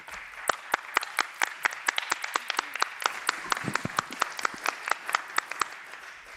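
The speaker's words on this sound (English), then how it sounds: "Let's give them another round of applause." Sparse applause at a Cheverly, Maryland town meeting after an oath of office, a small group clapping in uneven sharp claps that stay distinct rather than merging into a roar.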